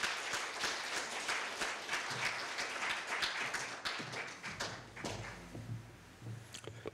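Audience applause at a Korea University evening event as a law-center presenter is welcomed, a steady spread of hand claps at moderate volume that thins and fades into scattered claps after about four and a half seconds.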